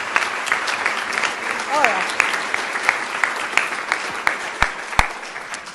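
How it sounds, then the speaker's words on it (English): An audience at a medical lecture on Alzheimer's disease claps in a moderate round, with scattered individual claps standing out, and a short exclamation rises over it. "Another round of applause for these people."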